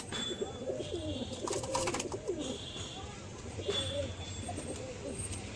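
Pigeons coo repeatedly in a loft, soft rolling calls rising and falling at moderate distance with a few chirps and rustles in the background.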